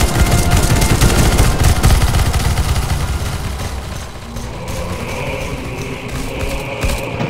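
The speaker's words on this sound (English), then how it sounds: "Please change your gun to Negev, please." A Negev machine gun fires in the video game CS:GO in a zombie escape map, a loud rapid stream of sustained automatic bursts that tapers slightly into a rumbling background.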